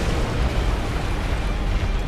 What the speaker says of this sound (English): Just this explosion thing that can hurt a lot.